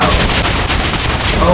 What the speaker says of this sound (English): we are going to get this redstone torch and blow this up